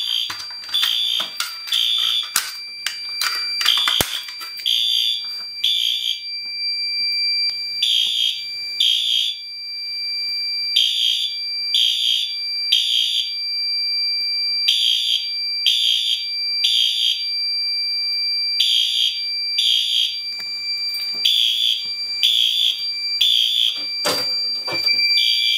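A Fire-Lite MS-2 fire alarm system sounds after a BG-12L pull station is pulled, giving a loud repeating temporal pattern of shrill horn bursts in groups of three over about 25 seconds, with no talk.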